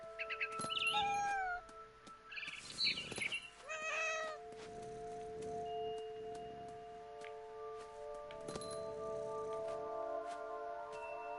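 A cat meows repeatedly in What Remains of Edith Finch, several loud close meows and yowls in the first few seconds, interleaved with high bird chirps, then fading into a steady tonal game ambience.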